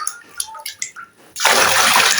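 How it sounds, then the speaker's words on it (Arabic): Water is poured loudly into a carpet-washing detergent mixture, a sudden steady gush and splash that follows a few quieter clinks and handling sounds. "هزود الخليط بتاعنا ده كده بالمية معايا"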